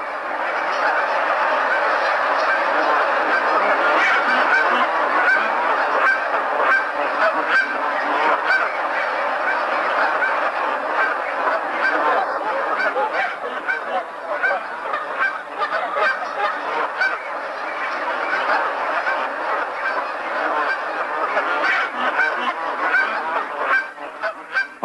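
A flock of geese of a subspecies resembling the Canada goose honks continuously in a dense, overlapping chorus, loud and steady throughout with no voices.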